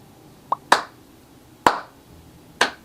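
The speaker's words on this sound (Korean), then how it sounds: "제가 박수를 쳐볼게요" Three sharp, separate hand claps spaced about a second apart, made to show how a string instrument and its bow match in tension, each crack loud and close with a brief decay, preceded by a softer small tap.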